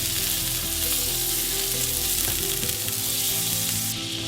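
A quarter cup of butter sizzles and melts in a hot pan, a loud, dense, continuous crackling hiss that stays steady throughout with no voices over it.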